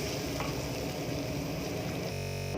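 Browned onions fry steadily in a pan as chopped tomatoes drop in, with a constant loud sizzle that changes character near the end as the tomatoes hit the oil.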